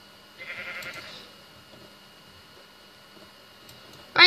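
A Minecraft sheep lets out a short, wavering bleat over quiet game ambience, followed a few seconds later by a sudden loud, harsh burst at the very end.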